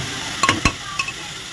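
Tomatoes and salt being stirred into a pan for pav bhaji, with a soft background sizzle broken by a few sharp scraping clinks of a spoon against the pan, close and fairly quiet.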